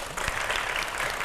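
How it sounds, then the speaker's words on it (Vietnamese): Studio audience applauding on a Vietnamese dating show, a dense steady wash of clapping that starts abruptly and carries on evenly throughout. "Vỗ tay quý vị."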